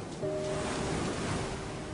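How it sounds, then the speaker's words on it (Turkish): Big ocean wave crashing onto shore, a steady broad roar of surf that swells after a quarter second and holds loud and close to the end, with no voices. "Ah ne büyük bir dalgaydı öyle."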